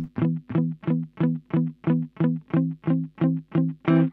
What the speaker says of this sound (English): it started off with the perfect 5th and then it moved to the minor 6